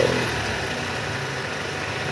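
A Toyota Camry XV40 engine with a rough-running fault and a rattling tensioner makes a steady, fairly loud mechanical drone with a rough, grinding texture, heard alone without talk.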